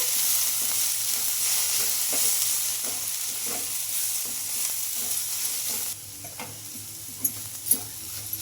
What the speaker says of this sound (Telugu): ఒక పావు టీ స్పూన్ గరం మసాలా ఇవన్నీ వేసేసుకొని బాగా కలిపేసుకున్నామండి